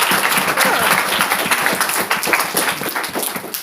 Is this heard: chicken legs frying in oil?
no